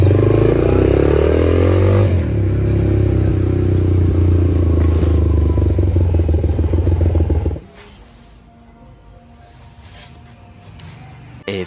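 A motorcycle engine drones steadily and loud up close while riding to a shop, then cuts off abruptly, leaving quiet background noise.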